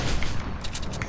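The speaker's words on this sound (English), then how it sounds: "Someone got sniped." Single sharp sniper rifle crack in a console shooter game, fairly quiet and brief, with a faint burst of gunfire texture around it and no talk.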